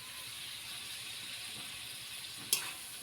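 Vegetables that were fried earlier are tipped into a pan of spice paste for a Bengali katla fish curry and sizzle there, a steady hiss that runs the whole time and ends in a brief sharp clatter near the end.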